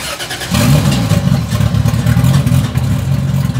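A 2JZ-swapped Dodge Charger engine turns over and catches, then settles into a loud, close, lumpy idle with a pulsing rumble.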